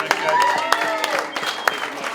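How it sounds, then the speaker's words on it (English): A crowd applauds for Jimmy at a final-night celebration show, with steady clapping and cheering filling the room and voices mixed in throughout. "give a nice round of applause for Jimmy"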